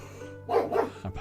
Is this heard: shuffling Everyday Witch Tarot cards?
no